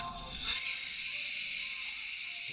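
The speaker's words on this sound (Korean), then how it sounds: "이게 다 이 안에서 천연 탄산이 계속 생겨나가지고 가득 차 있는 거야." A bottle of Boksoon Dosa carbonated makgeolli is opened gently without shaking, and naturally carbonated gas escapes in a sudden loud hiss. Steady close fizzing follows and continues throughout, with no talking.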